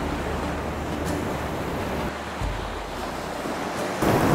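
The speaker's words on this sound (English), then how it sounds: "the ocean's coming in, the tide's coming in" Incoming tide on the southern Oregon coast at Myers Creek Beach, with ocean waves making a constant close roar of surf mixed with wind buffeting the microphone and a surge near the end.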